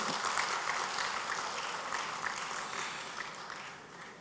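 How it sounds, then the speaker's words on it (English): Steady applause from a large audience at the opening of an ASEAN civil society forum in Malaysia, a dense even wash of clapping that slowly tapers off. "Give a big round of applause to all of you."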